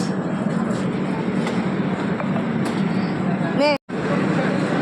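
A passenger train pulls into a station after a long, delayed journey, giving a steady rumble with a brief high squeal near the end. Platform chatter and crowd noise run throughout.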